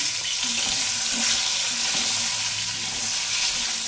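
Broad beans fry lightly in a pan for a Bengali mixed vegetable dish, giving a constant, even hiss of sizzling oil that stays steady and fairly loud from start to finish, with a few faint stirring knocks and no speech.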